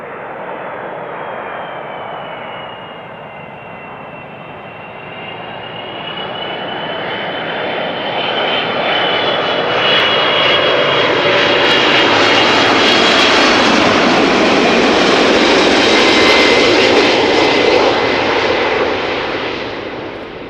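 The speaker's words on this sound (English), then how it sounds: "Delta Airlines Flight 164 arriving from Minneapolis in Minnesota. A330-300" A Delta Airlines Airbus A330-300 arriving at Schiphol Airport roars past, growing steadily louder over about twenty seconds and then easing slightly, a broad rushing jet noise with no voices.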